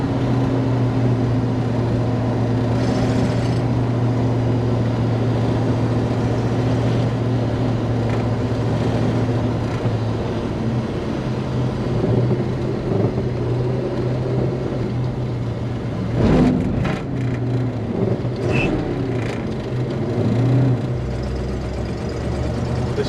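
A Chevrolet El Camino engine running steadily on a drive, a low sustained rumble and hum throughout, with a few brief louder bumps and rattles near the middle; no voices.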